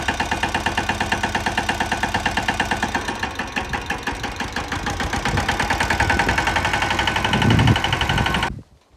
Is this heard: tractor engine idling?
yes